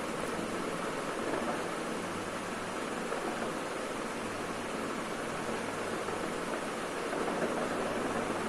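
Heavy rain falls in a dense, even hiss that stays steady and fairly loud throughout, with no pauses.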